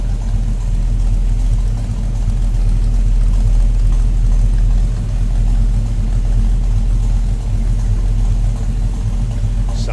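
A 1940 Ford Standard Coupe street rod idles steadily up close, its low engine rumble continuous and even for the full stretch with no talk over it.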